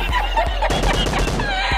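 Rapid bursts of gunfire in the mobile shooter PUBG Lite, clustered shots rattling close and loud over steady game background noise.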